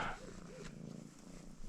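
A small, friendly cat purrs softly and steadily at close range during a motorcycle trip in Argentina, faint low rumbling with no talking.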